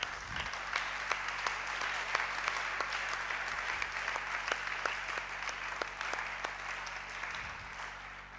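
Sustained applause from a church congregation, a dense even patter of many hands with louder claps cutting through at intervals, over a steady low background hum.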